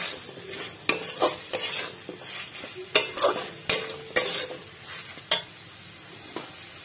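Boiled jackfruit seeds sauté in oil in a kadai, with a soft sizzle under a series of sharp, close spatula scrapes and knocks against the metal, no one talking.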